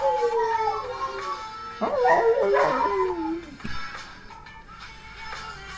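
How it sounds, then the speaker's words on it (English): A dog named Kenai howls and yips in drawn-out, wavering cries that rise and fall, loud and close, with a burst of overlapping yelps midway before trailing off into quieter whimpers. "We get it, Kenai, you bark."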